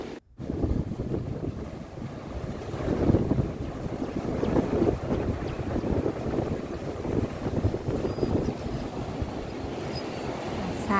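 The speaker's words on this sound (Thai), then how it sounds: "วันนี้คลื่นลมแรงมาก" Strong morning wind and rough waves at Samila beach near the Songkhla headland, a constant loud roar of surf and wind buffeting the microphone with no pauses.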